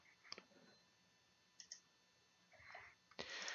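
Mouse clicks on a computer while stepping through a software setup wizard, a few sharp close clicks spaced apart over quiet room tone, ending with a brief burst of brighter clicking.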